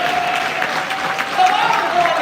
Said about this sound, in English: No, give Al a round of applause.